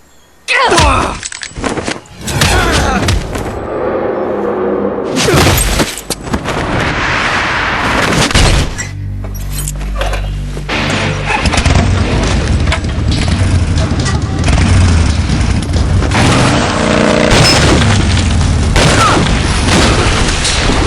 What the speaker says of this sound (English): Six shots.